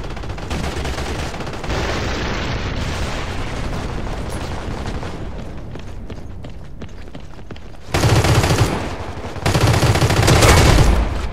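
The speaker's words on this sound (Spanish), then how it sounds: "Dos disparos a la cabeza." Rapid gunfire rattles in the first-person shooter game CrossFire, loud sustained bursts that briefly ease before heavier, louder volleys return toward the end.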